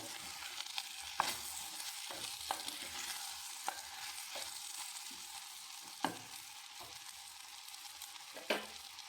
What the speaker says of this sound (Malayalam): നമുക്കൊന്ന് ഇളക്കി കൊടുക്കണം